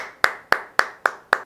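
Five slow, even hand claps, crisp and close, spaced about a quarter second apart.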